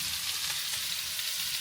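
Scallops fry in a pan while camping, giving a steady, dense sizzle close by with no break and no voices.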